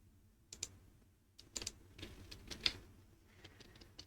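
Brief bursts of computer keyboard typing, a few quick clustered key clicks, close and fairly quiet in a near-silent room, with no talk.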